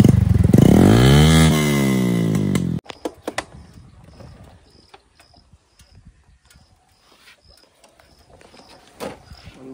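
A Bajaj Platina motorcycle with a slipped chain gives a loud, rising engine rev for about three seconds that cuts off abruptly, followed by sparse mechanical ratcheting clicks and light rattles nearby.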